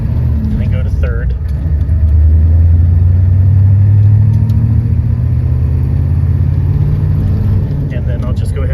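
A 1989 Ford F350 pickup with a 7.3L engine drives through its gears, a loud, steady low rumble that climbs in pitch and then settles as it shifts up, heard from inside the cab.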